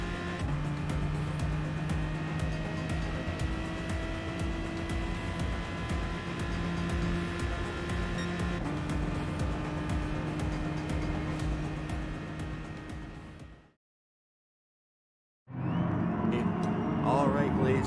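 Race cars lapping the Fuji circuit in a racing video game, a loud continuous engine drone with shifting pitch passing by, then cutting to silence for about two seconds before the engines return.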